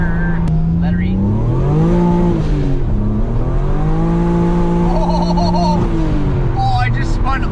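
The Red Ted street car's engine revs hard under acceleration, loud and close, with the pitch climbing and dropping through gear changes, and a voice speaks briefly over the roar.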